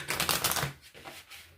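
A deck of tarot cards is shuffled in quick, close riffling bursts, a papery flutter that tapers off after about a second.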